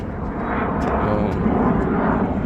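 Airplane passing overhead near a seaside base in Khobar, a steady broad roaring drone that holds loud and continuous throughout, with faint voices beneath.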